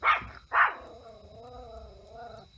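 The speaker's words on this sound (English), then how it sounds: "She has no idea what she's barking at." A dog gives two sharp barks close by, then lets out a drawn-out, wavering whine.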